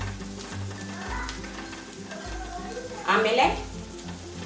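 Curry leaves hit hot oil in a pan with a burst of crackling sizzle partway through, over a continuous background hiss, with a voice speaking briefly.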